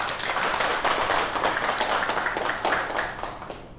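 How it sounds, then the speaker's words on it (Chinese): Office coworkers clap together to welcome a new colleague joining the marketing department, a steady, moderately close patter of many hands with no talking. "大家鼓掌欢迎。"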